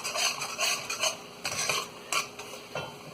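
A spoon scrapes and stirs garlic powder and seasonings into a cooking mixture for arroz con gandules in a pot, in steady rhythmic strokes, close and clear without talking.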